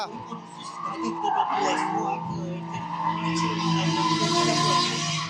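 Drift car engine revving hard with tire skid noise, loud and continuous through the stretch, while voices shout encouragement over it at a drifting event.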